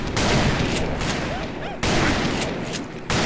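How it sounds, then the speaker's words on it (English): Loud gunfire from Call of Juarez: Bound in Blood, a fast fusillade of overlapping shots with two sharp fresh bursts, close and dense over a chaotic game battle. "Shoot them down!"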